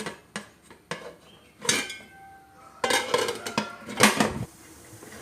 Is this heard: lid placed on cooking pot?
yes